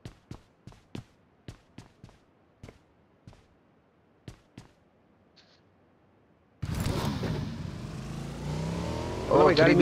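Several sharp clicks, then a motorcycle engine in the video game PUBG Mobile suddenly starts roaring and holds steady, growing louder at the end.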